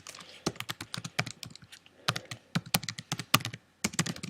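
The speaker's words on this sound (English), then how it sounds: "I'm going to type in" Quick, irregular keystrokes on a computer keyboard while a web address goes into a browser, with clicky bursts separated by short pauses, close and clear, with no talking.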